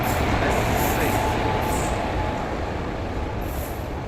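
Train standing at Wardha station, a steady broadband rumble of rail cars and platform ambience with faint high squeals, continuous and fairly loud throughout.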